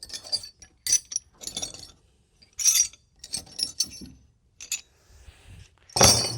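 Punch and chisel set of loose steel tools handled up close, with bright metallic clinks and clatters in scattered clusters, ending in a louder clank.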